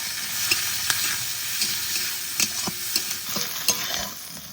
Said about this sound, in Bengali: পেঁয়াজটা হালকা ভেজে নেব।